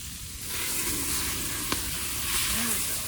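Farro pilaf frying in olive oil in a wide pan over a campfire gives off a steady, continuous sizzle and hiss that sits at an even level throughout.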